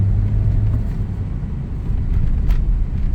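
A Toyota All New Rush engine revs loudly and steadily up close, a dense low rumble that holds throughout with no talk.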